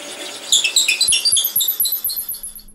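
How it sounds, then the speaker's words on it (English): Drill bit boring into a mahogany pen blank at about 250 RPM, giving a series of about fifteen sharp, high-pitched squeals in quick rhythmic succession, loud and close, with no voices. "The squealing from that bit turning inside that piece of mahogany got so bad"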